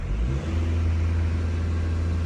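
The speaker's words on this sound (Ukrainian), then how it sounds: "Турбіна дує відмінно." A diesel Skoda Superb 2018 with DSG gearbox revs with a low, steady rumble and turbo blowing, holding loud and even, close by.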